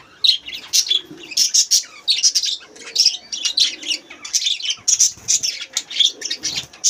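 Budgerigars in a breeding colony chirp and chatter constantly, a dense overlapping stream of bright, close tweets with some wing flutters.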